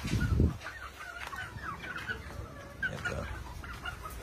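Young Power Lemon gamefowl pullets clucking softly in a breeding pen, scattered chirpy calls and low murmurs at moderate distance, fairly quiet throughout.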